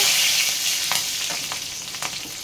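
Four green chillies frying in hot oil, for a pachadi, produce a loud, bright continuous sizzle with several sharp crackles and pops scattered through it, close and with no talk.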